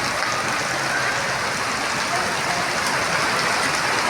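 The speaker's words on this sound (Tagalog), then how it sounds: "Dahil malakas ang ulan." Heavy rain pouring down outdoors, a loud, steady, dense hiss of drops hitting surfaces without pause, close and constant throughout.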